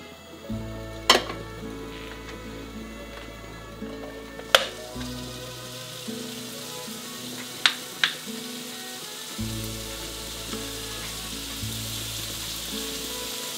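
Pancetta frying in a hot pan with a soft continuous sizzle and hiss under a low background hum, broken by a few sharp clicks and taps; no one talks.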